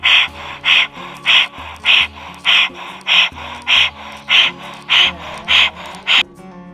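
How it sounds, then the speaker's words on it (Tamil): Rhythmic, forceful breaths in and out during a yoga breathing exercise done with the tongue curled upward, about a dozen loud, evenly spaced strokes close to the mic over a steady musical backing. "நாக்கை மேல் நோக்கி சுருட்டி வச்சு இன்னொரு 21 தடவை அதே மாதிரி சுவாசம் பண்ணணும்"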